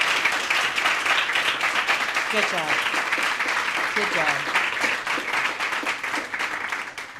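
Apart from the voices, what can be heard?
applause for writers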